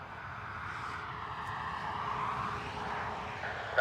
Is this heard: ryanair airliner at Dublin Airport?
yes